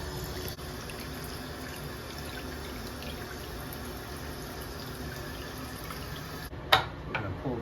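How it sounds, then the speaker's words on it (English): A new YardMonet bathroom sink faucet runs cold water in a steady, even stream at close range, ending with a brief clunk and a small splash near the end. "There's our cold water."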